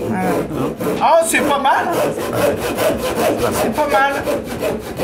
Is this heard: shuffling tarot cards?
no